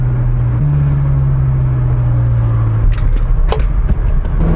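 A Ferrari 360 engine idles with a steady low drone, rising slightly in pitch for a couple of seconds, then breaking into rougher rumbling with a few sharp higher bursts toward the end.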